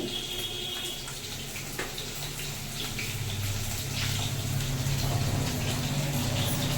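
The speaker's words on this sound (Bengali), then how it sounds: "ওদিকে ভাতের প্যান ফুটছে" A steady bubbling, hissing rush of a pot of rice boiling vigorously on the stove, continuous and fairly loud, with no voices.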